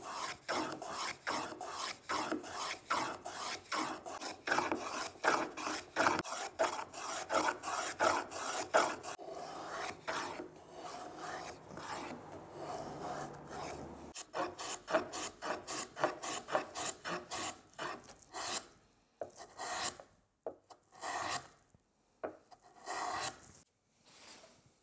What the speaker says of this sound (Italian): adesso do una smussata veloce ai bordi con il pialletto